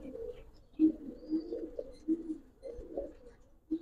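Giribaz pigeons coo close by in short, throaty bursts, several rolling calls spaced every second or so against a quiet background.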